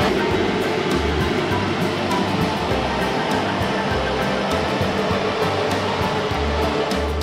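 Water heater feeding a radiator heater running on medium inside an RV camper garage shop, a loud constant fan-like whoosh with a low hum and no pauses, no talking.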